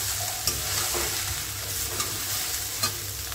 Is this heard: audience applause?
no